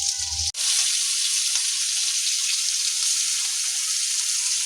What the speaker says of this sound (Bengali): এই যে চিংড়ি মাছ ভাজা হচ্ছে